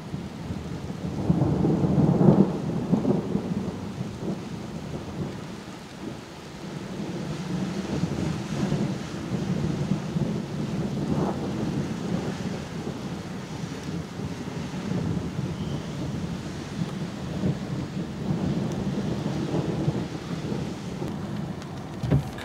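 A thunderstorm near Nördlingen, Germany, on a supercell day: heavy rain hisses steadily while thunder rumbles low and rolling, with gusts of wind buffeting the microphone and no voices.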